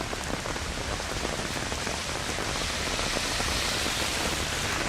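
Heavy rain pours down steadily in Shahapur taluk, Yadgir, a dense, unbroken hiss of drops drumming on surfaces close by, with no voices.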